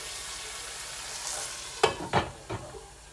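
Ground meat for lasagna simmering in a pan, a soft steady sizzle close by, broken by three clattering stirring knocks near the end, with no talking.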